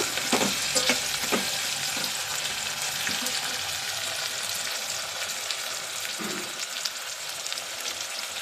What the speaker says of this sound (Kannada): ಸ್ವಲ್ಪ ಈರುಳ್ಳಿ ಕೆಂಪಗಾಗಬೇಕು